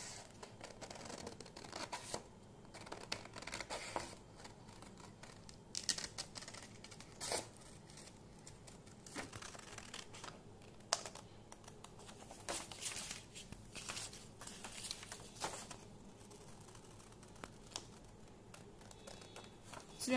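Paper being cut with scissors: a quiet series of irregular snips and rustles of a paper sheet, close by, with soft handling noise between cuts.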